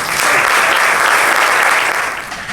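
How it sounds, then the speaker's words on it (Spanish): An audience at a lecture on the Dutch flamenco boom of the eighties claps in steady, sustained applause, loud and even throughout. "un fuerte aplauso para ella"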